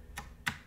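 Typing on a gaming keyboard with blue switches and LED backlighting, three sharp clicky keystrokes spaced apart, crisp and close against a quiet room.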